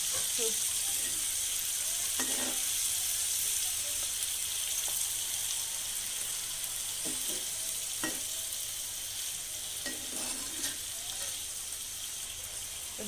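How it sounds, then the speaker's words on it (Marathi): Chopped sagar fenugreek leaves stir-frying in a pan after turmeric is added, with a continuous soft sizzle and periodic scraping stirs from a spatula, fairly close. "आता यामध्ये चिरून ठेवलेली सागर मेथीची भाजी टाकून व्यवस्थित परतवून घेऊया"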